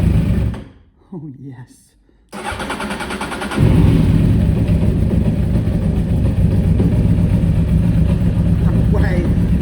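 A 1993 Honda Fireblade motorcycle engine cranks, then catches and settles into a loud, steady close-up idle on choke, with a brief voice heard before it fires.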